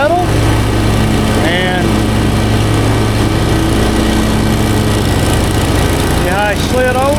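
A ride-on lawn mower engine runs loud and steady for the whole stretch, its constant droning hum close by, with brief bits of voices over it.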